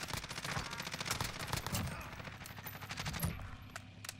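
Gunfire in the online shooter Call of Duty Warzone, with rapid bursts of automatic shots crackling in quick succession throughout, fairly faint and mixed with game ambience and occasional speech.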